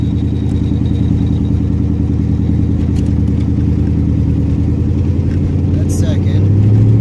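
Chevrolet Camaro with the check engine light on, recorded from inside as it accelerates, a loud steady engine drone that rises toward the end, with some clatter and occasional talk over it.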